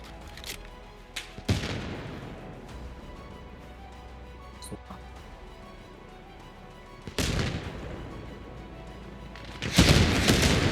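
Helicopter attack in Arma Reforger: sharp loud blasts and bursts of gunfire and explosions arrive in clusters, with quieter stretches between and a heavy barrage near the end.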